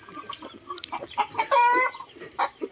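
A Rhode Island Red rooster on a rural farm clucks in a run of short, close calls, with one longer crow-like call in the middle. No talking is heard.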